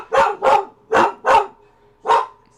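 A house dog, alarmed by booming noises outside, lets out five loud, close barks in a quick uneven rhythm, two pairs and then a single bark after a pause, with no voices.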